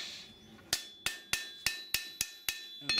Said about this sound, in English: I'm hammering both the spine and sorting out my edge